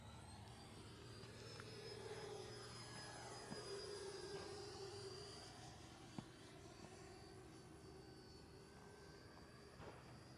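An FMS Futura v3 radio-controlled jet with an 80mm electric ducted fan makes passes overhead on its maiden flight, a faint, distant, continuous turbine-like whine that swells slightly and fades across the sky.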